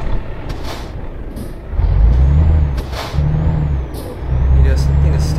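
Truck air brakes hiss in Euro Truck Simulator 2, set in the Netherlands, with a steady low engine rumble that swells in three bursts alongside the hissing releases, while a person talks throughout.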